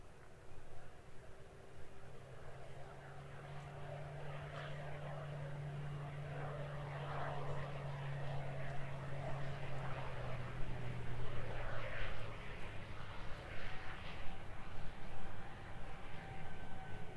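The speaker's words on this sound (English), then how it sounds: "Here's our little PC-12 though." A Pilatus PC-12 turboprop passes at Christchurch Airport in New Zealand, its propeller drone holding a steady low hum that swells and then fades across the stretch, heard at moderate distance over outdoor ambience with no talk.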